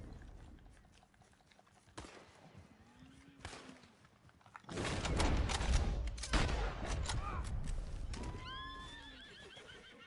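Horse in the Red Dead Redemption II video game whinnies and neighs several times amid hoofbeats and a burst of louder rumbling action, rising from quiet to loud.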